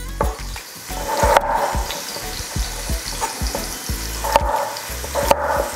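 Carrot pieces frying in oil in a pan, with a steady close sizzle broken by bursts of scraping and knocking as a utensil stirs them, with no voices.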